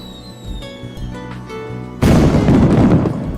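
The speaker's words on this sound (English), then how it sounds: "we heard a shrill whistling noise pierce the air" Fireworks in the open sky, with tonal whistling streaks followed by a loud, sudden burst that crackles and rumbles for over a second, close and dominant.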